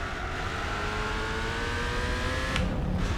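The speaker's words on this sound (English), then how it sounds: "I really was disappointed always with engine sounds in GT4, but if I hear it now" A car engine in Gran Turismo 4 revs and pulls steadily upward in pitch under acceleration, loud and close, then shifts sharply near the end, heard alone without talk.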